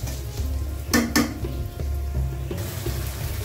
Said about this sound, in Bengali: পেঁয়াজ আর কাঁচামরিচ আস্ত দিয়ে দিয়েছি তেলের মধ্যে